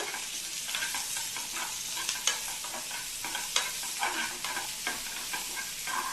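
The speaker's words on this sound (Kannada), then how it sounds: "ನೀರುಳ್ಳಿ ಹಾಕ್ಕೊಂಡು ಸ್ವಲ್ಪ ಕೈ ಇಟ್ಕೋಬೇಕು, ಮತ್ತು ಲೋ ಫ್ಲೇಮ್ ಮೇಲೆ ಇಟ್ಕೋಬೇಕು." Chopped onions frying on a low flame in a pan, with a steady soft sizzle and repeated scraping, clinking strokes of a spoon stirring them, close and continuous.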